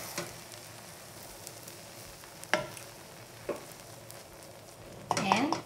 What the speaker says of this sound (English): stir this with my wooden spoon